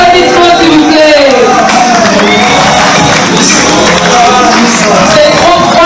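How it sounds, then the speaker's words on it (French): An audience at a Congolese fashion and couture show in Kinshasa responds with loud crowd cheering and shouts, a voice carrying over the noise throughout. "Les applaudissements s'il vous plaît."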